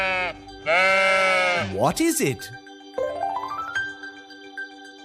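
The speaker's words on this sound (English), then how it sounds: "It's a sheep." A sheep bleats in two bursts, a long loud wavering bleat near the start and a shorter one midway, with a person speaking briefly between them in a children's farm animal song.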